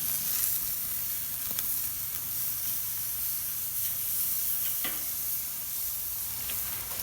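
Country-style ribs sizzle on a grill in a continuous loud hiss, with a few sharp spits and soft scrapes as the meat is flipped, close and without talk.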